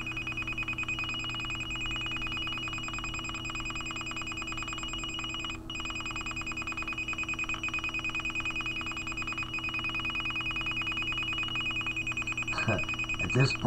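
A phone flooded with text messages sounds a continuous electronic alert tone over a steady hum, with a brief dip midway and a few sharp clicks and handling noises near the end.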